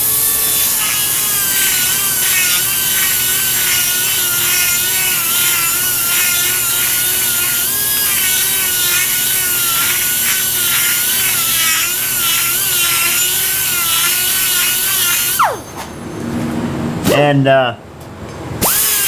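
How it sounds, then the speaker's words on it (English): A small pneumatic die grinder grinds out the inside of a hole, giving a loud, continuous, wavering high-pitched whir that cuts off near the end into a few scraping bursts; a voice briefly says a word. "this is actually the very first little project I get to use one of my Juniper pneumatic little air tools there"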